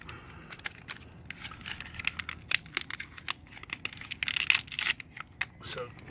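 A gummy rubber tire plug strip for a motorcycle tire repair is peeled from its backing, giving soft, close crinkling and tearing crackles in irregular bursts, with sharper clusters near the end.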